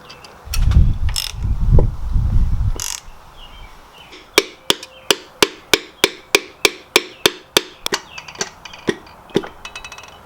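Pistons being tapped out of a Nissan R33 RB25 engine during a teardown with the bottom of a screwdriver: a few dull, heavy knocks, then a steady run of about fifteen sharp, evenly spaced metallic taps, close and loud.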